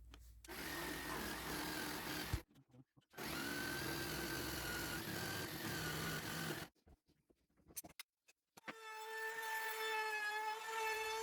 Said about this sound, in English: this cheap jigsaw actually went through it fairly easily